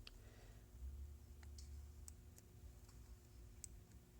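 Faint, sparse clicking from a repaired Aspire Atlantis vape tank, a few sharp ticks scattered irregularly over a low steady hum, quiet and close, with no talking.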